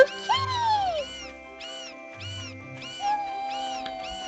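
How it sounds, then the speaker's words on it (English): Cats meowing in the video game Ys: The Oath of Felghana, a run of about six clear, close meows in a steady rhythm over a quiet background of game music. "Kitties! Oh, kitties!"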